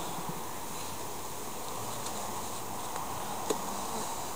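Honey bees buzz steadily around an opened hive during an inspection, a soft continuous drone with light rustling and a brief tap near the end, no talking.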